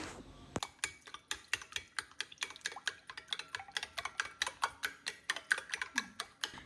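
Eggs with coriander, salt and chilli flakes are whisked in a bowl for bread pola, giving a long run of quiet, evenly spaced taps and clicks at a steady quick rhythm, with no talking.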